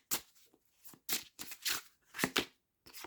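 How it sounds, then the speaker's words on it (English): Tarot cards shuffled by hand in several short riffling bursts separated by brief pauses, close and fairly quiet, with no voices. "without me even shuffling them"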